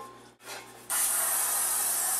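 Cooking spray hisses into a 9x5 baking pan, one short burst and then a longer steady spray, close and loud with no voices.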